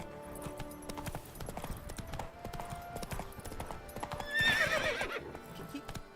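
Hooves clip-clop steadily as a horse runs in The Witcher 3, joined by a whinny near the end, with game music and faint effects underneath.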